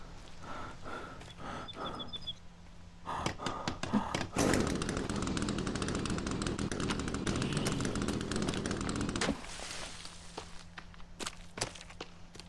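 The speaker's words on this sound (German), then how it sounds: "Kettensäge angeht." A chainsaw starts up in the survival video game The Forest: a few rhythmic footstep-like thuds, then a loud buzzing roar that holds for several seconds before dropping back to quieter clattering steps.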